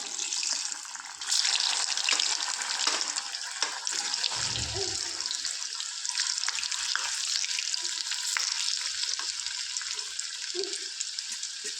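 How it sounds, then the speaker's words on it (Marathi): Masala vadi pieces frying in hot oil, a steady broad sizzle and crackle throughout with a brief low bubbling burst near the middle, no talk. "एक एक वड्या या ज्या वड्या आहेत त्या आपण यात तळून घेऊया"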